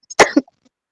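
A single person gives one sharp, close cough with a brief throat-clearing tail, short and loud against silence.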